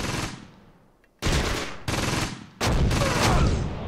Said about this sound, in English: That does really sound like 8cm mortar.